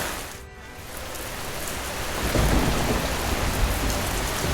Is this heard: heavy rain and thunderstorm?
yes